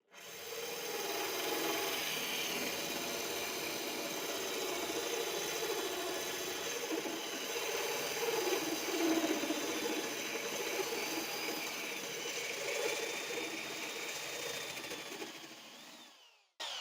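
A hole is drilled through aquarium glass, a steady close grinding rasp that runs continuously for about sixteen seconds with slight wavering pitch, then stops abruptly; no talk.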